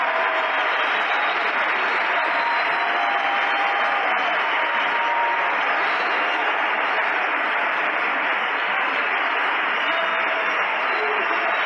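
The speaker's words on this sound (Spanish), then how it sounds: "Un aplauso prolongado." Prolonged applause fills a church service, a dense and steady wash of clapping that holds at an even, loud level throughout with no pauses.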